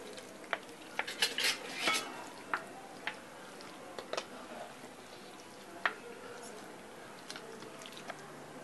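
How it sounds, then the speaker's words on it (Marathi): Chicken leg pieces are mixed with lemon juice in a bowl, village-style, giving soft wet squelches and scattered light clinks of a spoon against the dish, fairly quiet and close. "चांगलं मिक्स करून घ्यायचं"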